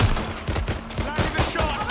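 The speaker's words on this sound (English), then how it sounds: "Target is firing." Gunfire in the video game Watch Dogs: Legion, a rapid burst of repeated shots in quick succession, moderately loud, with game voices around it.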